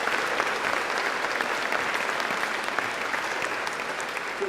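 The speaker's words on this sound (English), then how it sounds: "No, round of applause." Audience at a news technology hackathon demo session applauding a prototype presentation, steady moderate clapping from a room of people lasting several seconds.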